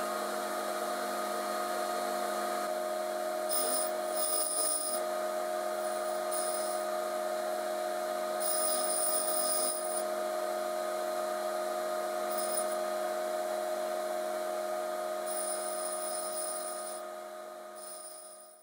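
A grinding wheel spins with a steady high whine and electrical hum while a diamond dresser is fed against it for an end mill regrind, with brief bursts of hissing, scraping contact coming and going over the continuous tone.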